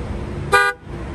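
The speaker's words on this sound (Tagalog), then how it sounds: "Pindot mo busina, dali." A single short honk from the horn of a Honda Civic, loud and close, a bright tonal blast of under a quarter second that cuts off against a background of low ambient noise.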